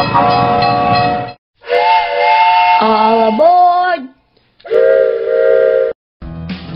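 Loud steam train whistle blasts, several long harmonic hoots with sliding pitch separated by short silences, alone without talk, at a children's church event.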